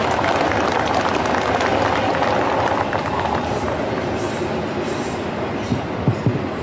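A train passes close by in the City of DeKalb at a veterans memorial dedication, a loud continuous rumble and rattle of rail cars with clickety-clack and squeals throughout.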